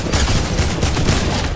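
Rapid submachine gun fire in a battle royale style video game, with a dense, continuous burst of closely spaced shots at loud, close range and no talking over it.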